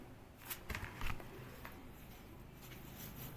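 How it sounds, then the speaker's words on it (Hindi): Tarot cards being shuffled and drawn, a few soft flicking bursts close up near the start, then quieter rustling with faint background hum. "मैं पहले कार्ड्स निकाल लेती हूँ।"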